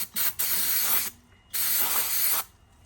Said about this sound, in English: shake it, and just give it a couple of sprays